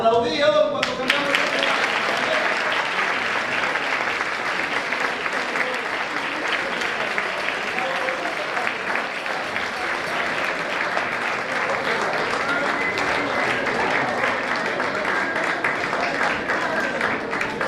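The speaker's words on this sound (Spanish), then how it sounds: "Aplaudíos cuando cantamos." Sustained audience applause at a traditional Asturian Christmas folk music gathering in Grao, dense and steady clapping filling the whole stretch after a brief opening, with no talk over it.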